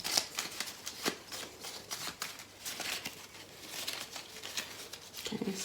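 Tarot cards being shuffled by hand during a reading, giving soft, rapid riffling and papery slapping in irregular bursts, close and fairly quiet.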